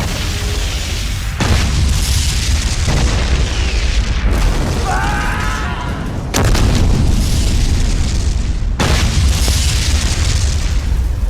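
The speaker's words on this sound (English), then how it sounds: "there is an explosion on the ship" A ship explodes in the disaster film Titanic 2: loud, heavy booming blasts and roaring rumble fill the scene in long surges, with sharp cuts between bursts and a brief wailing tone in the middle.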